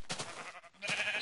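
Sheep bleat in a video game, a couple of nasal cries close together, fairly loud against faint game background sounds.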